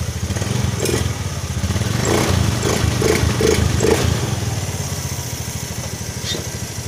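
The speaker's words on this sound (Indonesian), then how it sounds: "Motor sudah nyala ya teman-teman ya" A Honda Scoopy or Beat scooter engine runs after a no-start ignition fault is repaired, idling close and steady with a throbbing low putter and light mechanical clatter, a few slight revs lifting it midway.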